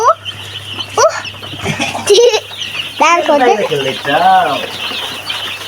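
Newly delivered chicks chirp and cheep in short rising bursts while being moved in, with people talking loudly nearby and a low steady hum underneath.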